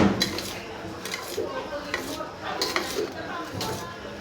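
Karanji filling with freshly added grated coconut is mixed in a pan, giving clinks and scrapes of a metal spoon against the pan in quick bursts, close by, with a faint sizzle underneath.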